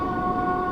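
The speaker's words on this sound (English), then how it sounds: "I've also got a whistle board here, meaning that I have to sound the horn." Steady electric train horn in Train Sim World 2 on the Island Line near Ryde Pier, a single sustained two-tone blast held evenly at close range with no talk.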